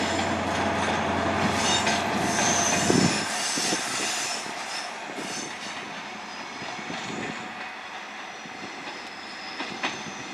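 A passenger train at Plymouth station rumbles and clatters loudly nearby, with wheel squeal and a hissing, whining engine drone that eases off and thins after a few seconds, leaving a lighter rolling noise.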